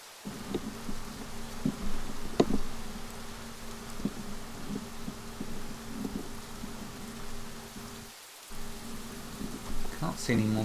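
Rain falls steadily in Rising World, a soft, continuous hiss of game weather with faint low tones and a few brief clicks, briefly dropping out near the end.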